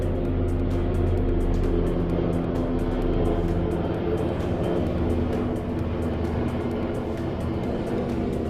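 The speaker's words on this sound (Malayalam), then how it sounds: "ഹെലികോപ്റ്റർ പോകുന്നുണ്ട്, നല്ല ഒച്ചയുണ്ട്." Helicopter flying overhead out of sight, a loud, steady low drone with pulsing rotor chop that holds for several seconds without voices.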